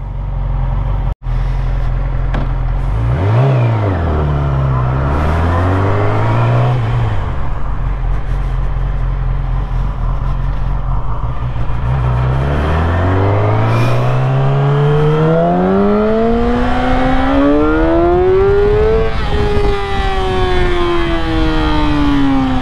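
A Yamaha YZF-R6 600 cc sport bike revs hard while ridden, its engine pitch climbing and dropping in repeated sweeps as it accelerates, shifts and slows, then winds up to a long rising high scream. The engine is loud and close throughout, with no talk.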